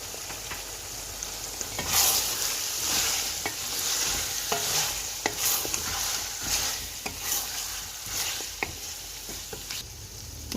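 Mutton stew ingredients with fried onions, black peppercorns and lemon juice are stirred together in a sizzling pot, with steady frying hiss and repeated scraping clinks from the spoon, close and without speech.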